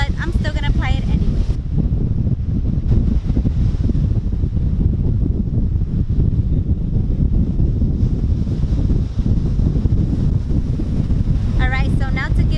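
Steady broadband wind and surf rumble at a beach, loud and continuous, with brief bursts of a voice near the start and end.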